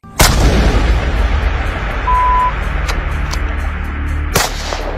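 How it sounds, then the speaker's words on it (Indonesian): A loud rifle shot booms and rolls away in a long echo across snow during a hunt, then a second sharper crack follows a few seconds later. "melepaskan 2 tembakan berturut-turut masih belum mengenai"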